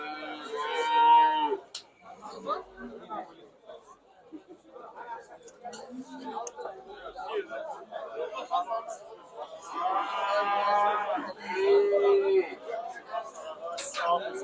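Cows at a livestock market in Kyzylorda moo near the start and again later, loud, drawn-out calls broken by stretches of people talking nearby.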